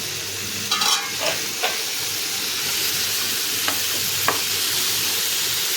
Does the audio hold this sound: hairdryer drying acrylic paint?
no